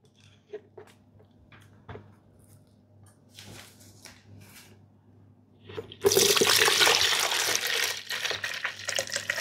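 Young coconut water pours in a steady, splashing stream into a container, beginning after a few quiet clicks and handling knocks, then continuing loud and close until the end.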